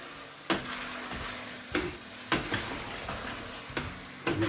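Chicken tehari being stirred as it fries in a pan: a steady close sizzle with a sharp spoon scrape roughly every second, heard alone without any voice.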